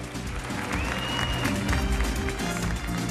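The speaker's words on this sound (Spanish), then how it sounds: "vamos a despedir entonces con un fuerte aplauso" Audience applause at the Señorita Panamá 2017 pageant opening, steady clapping with crowd noise and some background music or voices mixed in.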